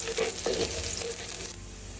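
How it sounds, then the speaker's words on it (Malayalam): Garlic and ginger sizzle steadily in a pan for a chicken stew, with a soft constant crackle and brief stirring scrapes close by and no voices. "നമ്മുടെ ഇഞ്ചിയും വെളുത്തുള്ളിയും ഒക്കെ മൂത്ത് വന്നിട്ടുണ്ട്"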